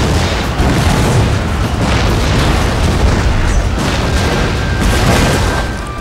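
Bomb explosions set off by saboteur units in the strategy game Shogun 2, a dense run of overlapping booms and bursts rumbling continuously and loudly across the whole stretch with battle noise.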